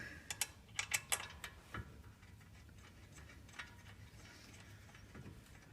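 A ratchet wrench tightens the two 12mm bolts that hold the brake caliper to its bracket on a Lincoln LS. Quick, crisp clicking bursts sound close by early on, followed by a few sparser clicks over a low background hum.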